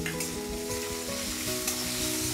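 Soaked chana dal frying in hot oil with roasted garlic, giving a loud, continuous close sizzle and crackle with stirring scrapes and a low background hum.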